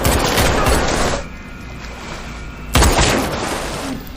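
Gunfire in a 2021 James Bond action film: two loud, dense bursts of rapid shots, one before and one after a brief quieter lull, with booming echo.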